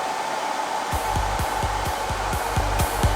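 A hair dryer blows steadily throughout while styling a front cowlick, its airflow a continuous close whoosh with a low rhythmic pulsing thump repeating roughly every half second from about one second on.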